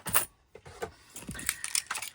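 Spare keys for an Airstream Interstate 24GT camper van jangle close by in quick metallic rattles and clinks across the whole moment, with faint handling noise between bursts and no talking.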